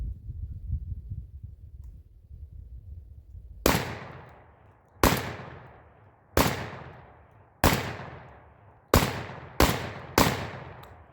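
Seven sharp, loud shotgun blasts from a Panzer EG200 firing buckshot, the first after a few seconds of low rumble, then spaced roughly a second apart with the last few coming quicker, each decaying quickly.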